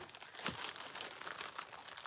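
Packaging wrap crinkles and rustles as a package is unboxed. Crisp crackling bursts come close and fairly quiet, with a sharper crunch early on and steady rustling after it.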